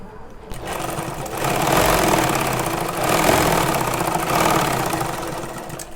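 A sewing machine stitches a seam on a kurti, its rapid rhythmic needle clatter rising in two loud bursts after a quiet start, close by and with no talk.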